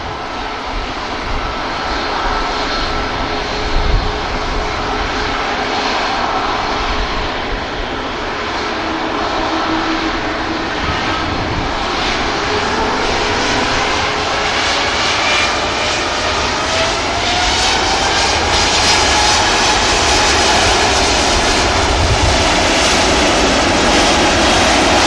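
A Qatar jet at Manchester Airport, its engines making a loud, sustained roar with a rising whine that stays steady and near throughout.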